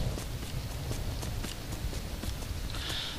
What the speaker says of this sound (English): I love riding on Auerbach, it's fun. It's such a uniquely designed horse